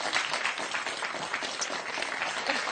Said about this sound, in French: On applaudit bien fort Laurence